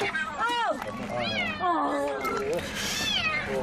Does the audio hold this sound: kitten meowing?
yes